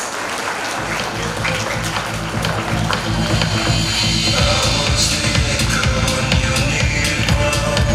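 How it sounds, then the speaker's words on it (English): Crowd at a toddlers' school annual day celebration clapping for the principal, loud and close applause mixed with booming low thumps and background commotion that swells and stays dense throughout. "Please give her a big round of applause."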